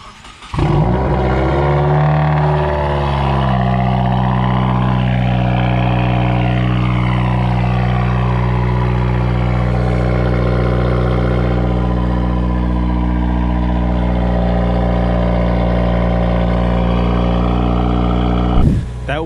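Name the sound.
Subaru WRX cold start with catted downpipe, muffler delete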